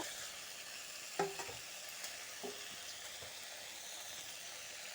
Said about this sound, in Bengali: টমেটোর সাথে ভালো করে আবার লাড়াচাড়া দিব